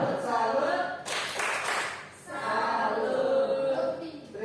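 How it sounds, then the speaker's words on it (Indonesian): A group performs the 'tepuk salut' clap chant in a teacher coaching session, with chanting voices around a burst of clapping in the middle. "Tepuk salut."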